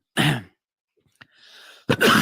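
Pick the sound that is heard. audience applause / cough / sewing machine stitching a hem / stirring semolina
cough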